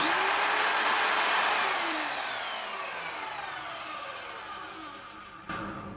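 A Mollar MS1200S sliding miter saw runs loud and close, a dense broadband whine that slowly winds down over several seconds, with a short burst near the end; no talking.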